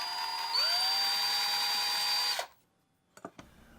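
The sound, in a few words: power drill drilling pilot hole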